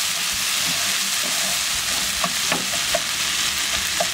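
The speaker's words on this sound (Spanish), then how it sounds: "Ahora vamos a dorarlo bien el tomate, a sacarle bien el juguito" Tomato browning in a pan for Salvadoran casamiento, a steady close frying sizzle with a few sharp spoon scrapes and taps as it is stirred, no talk.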